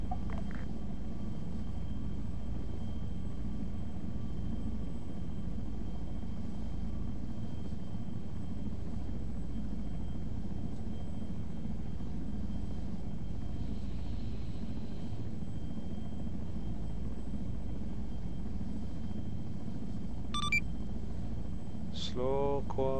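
Helicopter in ARMA 3 lifting off and hovering, a steady low rotor and engine drone held throughout, with radio-style beeps near the end.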